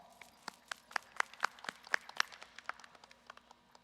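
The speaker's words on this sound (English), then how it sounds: "join me in giving our graduates, no matter where you are, a well-deserved round of applause" A few people at a Texas Southern University winter commencement for liberal arts and behavioral sciences graduates clap in a quick, fairly quiet run of individual claps that stays thin and sparse, not a full roar.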